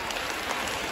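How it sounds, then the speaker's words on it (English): Students and staff at a school assembly applauding senior students, a dense continuous patter of many hands clapping for a brief moment. "let us put our hands together and give a great applause to our senior most students"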